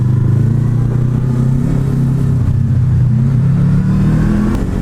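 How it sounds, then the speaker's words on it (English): A 2015 Honda VFR800X Crossrunner motorcycle's engine runs steadily loud and close, a deep continuous throb that rises and falls slightly in pitch throughout, with no voices over it. "It's an absolute bloody pleasure riding this motorbike."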